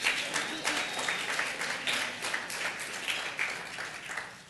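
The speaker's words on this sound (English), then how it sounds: "Oh, you can clap." Audience applause at the 2012 ADCOLOR Award Show, a steady wash of many hands clapping at moderate level across the whole stretch, with no voices over it.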